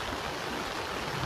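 Cyclone floodwater rushing past a bridge, a dense, continuous roar of churning water, loud and close with no break and no voices.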